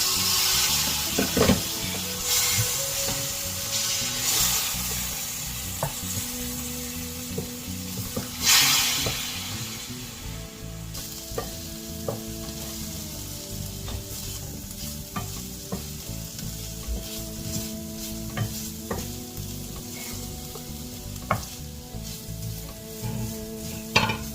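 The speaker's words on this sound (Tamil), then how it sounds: "இது வெந்துச்சுன்னா கேரட் பொரியல் முடிஞ்சது" Carrot poriyal stir-fry with a little added water sizzles steadily in a pan, with repeated scraping and stirring strokes, close and moderately loud, and no talk.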